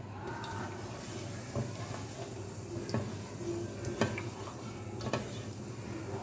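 Cumin seeds sauté in hot oil in a pan with a soft, steady sizzle, punctuated by occasional light taps and clicks of a spoon against the pan.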